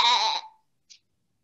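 A single short voice imitating a sheep's bleat rings out at a Christmas Eve nativity service, followed by a brief faint hiss and then silence.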